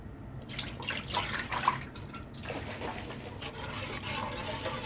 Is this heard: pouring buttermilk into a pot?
yes